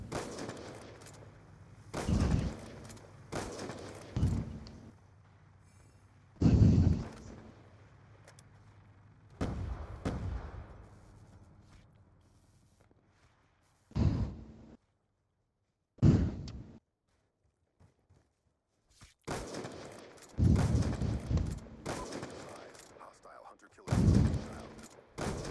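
Single-shot assault rifle fire in Black Ops 2 multiplayer, a series of sharp separate bursts spaced a few seconds apart over game background noise, with quiet gaps between some shots.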